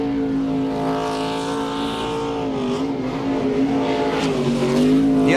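NASCAR Truck Series race truck doing a victory burnout at a racetrack, engine held at a loud sustained high rev with wavering pitch and tire squeal, steady and close throughout.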